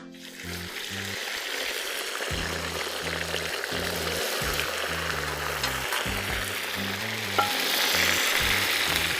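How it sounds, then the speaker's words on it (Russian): Loud, steady sizzling of beef frying in a deep cauldron over a campfire for Uzbek plov, a dense crackle with occasional clinks and a low rumbling hum underneath. "Отправляем обжариваться говядину."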